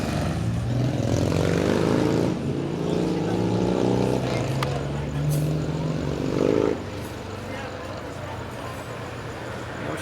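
A Harley Evo chopper engine runs loud and close, its rumble rising and falling as the throttle is worked, then settling to a steadier drone.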